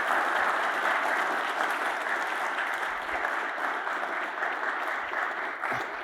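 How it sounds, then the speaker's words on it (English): A university entrepreneurship event audience gives sustained, steady applause, a dense wash of clapping that fills the room for several seconds without talk. "So let's give him a round of applause before we move on."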